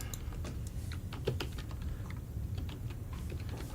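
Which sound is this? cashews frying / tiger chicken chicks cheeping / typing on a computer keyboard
typing on a computer keyboard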